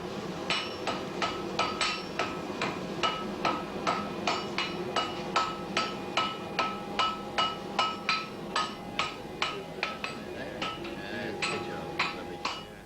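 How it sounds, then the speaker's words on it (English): A blacksmith's hammer strikes metal in a steady rhythm, more than twenty ringing clangs with bright metallic overtones, close and fairly loud, alone without talk. "The auctioneer's gavel is often preceded by the blacksmith's hammer."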